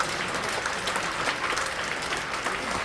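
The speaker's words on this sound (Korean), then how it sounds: "부활절 연합예배 대장으로 섬겨주시는 이호훈 목사님께 진심으로 감사드리며 오늘 박수로 영광드립니다." A church congregation at a Korean Easter prayer meeting gives a dense, steady round of applause, a continuous wash of many hands filling the room without any talk.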